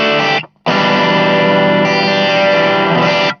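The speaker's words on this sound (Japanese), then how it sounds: "ブルース OD、 これブルースドライバーっていうジャキッとした歪みなんですよ" An electric guitar played through the Blues Driver overdrive setting of a BOSS GX-1 multi-effects unit sounds loud and crunchy. A short chord is cut off, then a long sustained distorted chord rings out close up.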